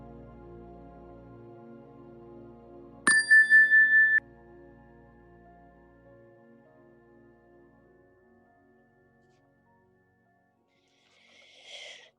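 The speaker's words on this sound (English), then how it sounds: "we'll begin the meditation with the ring of the chime" A meditation chime is struck once, ringing out clear and bright before settling into a long, sustained tone that slowly fades in an otherwise quiet room.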